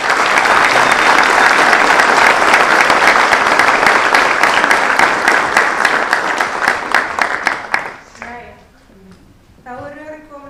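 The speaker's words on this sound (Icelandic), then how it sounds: "Mér langar að við gefum öllum gott klapp." Loud, sustained applause from a large audience at a school graduation ceremony in a hall, dense clapping filling the room for about eight seconds before fading, followed by quieter room sound.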